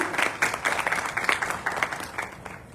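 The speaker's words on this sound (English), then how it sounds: "So big round of applause for our own club." A Rotary club installation ceremony audience applauds their own club, with a moderate crowd clapping in a fairly steady rhythm, individual claps standing out and the sound tapering off slightly near the end.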